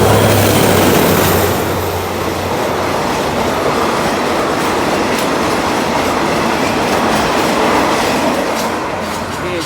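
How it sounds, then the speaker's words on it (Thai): An Alsthom diesel locomotive, number 4108, hauls ordinary train 255 from Thonburi to Lang Suan past the listener, its engine roar and clattering rail cars loud and close, continuous without speech. "อันต้อม 4108 ทำขบวน ธรรมดาที่ 255 นะครับ"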